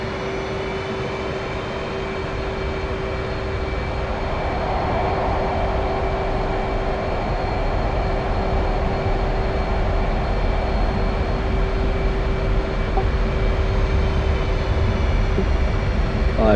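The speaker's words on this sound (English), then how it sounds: "that was barely a burner takeoff for us" A jet fighter's afterburner takeoff during a winter training flight, heard as a loud, continuous roar that builds slightly and holds steady throughout, with a steady tone running beneath it.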